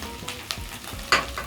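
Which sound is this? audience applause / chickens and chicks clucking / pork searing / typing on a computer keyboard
pork searing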